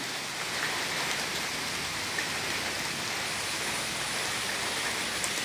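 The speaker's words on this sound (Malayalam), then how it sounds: "നല്ല നല്ല മഴയേ ഞങ്ങളിവിടെ മുകളിൽ ഷെഡിൽ കയറി നിൽക്കുകയാണ്" Heavy rain pours steadily onto a buffalo shed roof, a dense, continuous hiss with no break or voices.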